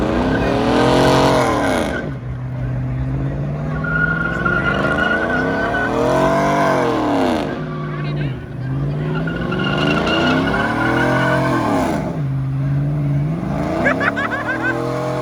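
Ford Mustang at a car meet doing a burnout, engine revving hard in repeated rising surges while the tires squeal and screech loudly close by.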